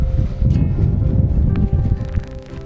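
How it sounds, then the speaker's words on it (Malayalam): Strong wind blowing on the Mottakunnu hilltop in Vagamon, buffeting the microphone in loud gusty rumbles with rustling, easing toward the end. "നല്ല കാറ്റും പിടി,"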